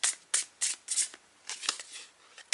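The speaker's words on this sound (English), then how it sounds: "I was told to shuffle again" Tarot cards being shuffled up close in quick riffling bursts, several short crisp flurries separated by brief pauses, with no talking.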